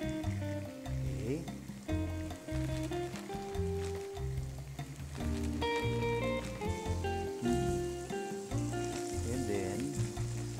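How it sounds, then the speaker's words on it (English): Pork steaks fry in a pan, giving a steady sizzle that runs throughout, partly masked by prominent background music. "I'm gonna start frying our pork steaks."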